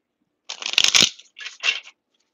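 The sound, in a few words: shuffling cards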